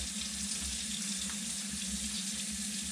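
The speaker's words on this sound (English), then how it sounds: "So, yeah, we're rinsing these things off." Cured homemade bacon is rinsed under a running tap, a loud steady stream of water splashing over the meat with no one speaking.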